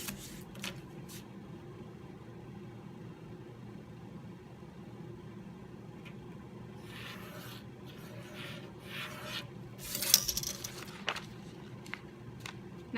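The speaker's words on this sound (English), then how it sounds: "I'm gonna put not really any pressure behind this tool. I do not want to slice the paper. Scoring basically means scratching the surface." A tool drawn lightly across paper to score fold lines for a paper lantern gives faint, intermittent rasping scratches over a low, steady room hum, with a slightly louder cluster of strokes toward the end.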